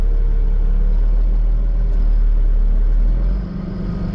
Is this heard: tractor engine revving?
yes